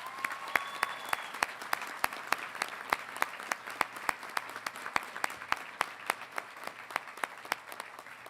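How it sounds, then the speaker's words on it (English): Sustained applause from a commencement audience for the faculty and professional staff of a college of agricultural sciences, many hands clapping steadily and fairly loud with sharp individual claps standing out throughout. "show with your applause, your gratitude to the faculty and to the professional staff that we have in the College of Ag Sciences"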